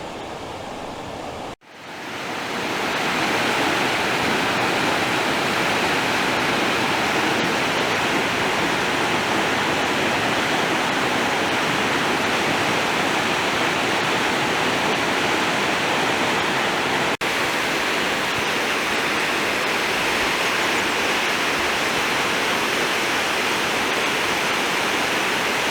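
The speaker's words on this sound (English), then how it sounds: "think this is the last waterfall of the day" Upper Whiteoak waterfall in Shenandoah National Park pours with a steady, loud, broadband rush that fills the whole span close by, after a brief quiet moment at the start.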